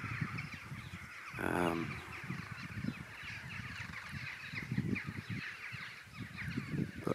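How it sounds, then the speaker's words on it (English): A crow gives a single short caw outdoors, fairly close, over a steady bed of wind and distant outdoor ambience; no other calls stand out. "Thank you, crows, for the authentic background sounds."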